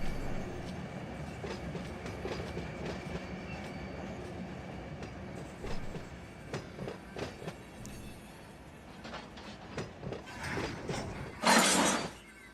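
A freight train in the Run 8 train simulator, running from Tuscaloosa to Birmingham, rumbling steadily on the rails with rhythmic clicks and clanks, then a sharp hiss of air near the end.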